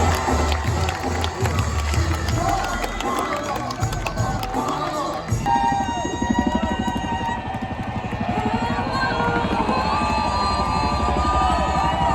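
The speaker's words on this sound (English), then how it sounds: "Give him a round of applause" A large NASCAR crowd cheers and applauds for driver Shane van Gisbergen, a loud, dense roar that rolls on throughout with shouts mixed in.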